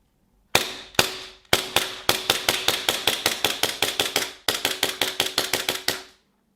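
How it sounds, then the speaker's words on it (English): A Tokyo Marui Samurai Edge gas blowback airsoft pistol fires a long rapid string of sharp, snappy shots close to the mic, with a brief pause partway through before the rapid fire resumes and ends. "the pistol will easily fire off all 26 rounds in one go,"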